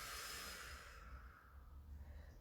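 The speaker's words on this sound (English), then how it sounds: "nice breath out" A slow, soft exhaled breath during a beginner Pilates workout, a faint airy hiss that fades gradually, heard alone and close.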